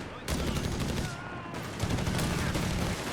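Auto-cannon fire from an armoured car in Company of Heroes 3, a desert-war real-time strategy battle, with dense continuous bursts of rapid shots layered with other gunfire and mixed under a commentator's speech.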